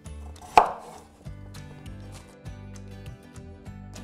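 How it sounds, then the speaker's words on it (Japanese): A knife chops vegetables into large pieces on a cutting board for a simmered green pea and potato dish, one sharp knock followed by steady, evenly spaced chops, close and clear, with no talking. "そうしましたら野菜の方なんですが、切っていきます。"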